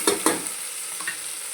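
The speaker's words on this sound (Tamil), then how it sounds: "இஞ்சி பூண்டு பேஸ்ட்டு வதங்குற கேப்லேயே நான் தக்காளியும் போட்டு விட்ருவேன்" Ginger garlic paste and tomato sauté in a hot pan with a continuous sizzle, opened by two quick stirring scrapes close up.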